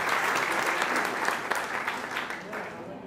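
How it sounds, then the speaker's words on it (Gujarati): An audience applauds at a Jain community felicitation ceremony, a dense, steady burst of clapping filling the short stretch without pause. "જોરદાર એમના માટે તાળીઓ વગાડો."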